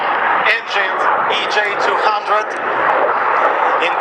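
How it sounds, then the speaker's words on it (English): Eurofighter Typhoon jet with twin EJ200 engines making a low, slow air show pass, giving a loud continuous roar that swells slightly as it passes, mixed with crowd or commentary voices. "You can see the noise of the two engines, EJ200."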